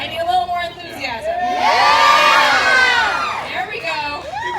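An audience of children shouting and cheering, a swelling crowd roar with high whoops and yells that peaks loudly in the middle and tapers off, close and energetic.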